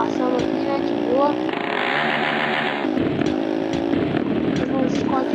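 A motorcycle engine in the video game GTA San Andreas drones and buzzes steadily, shifting pitch as it revs, with someone talking over it throughout.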